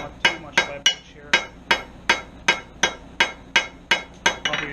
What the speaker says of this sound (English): I can get light, quick blows without tiring myself out and accidentally hammering too hard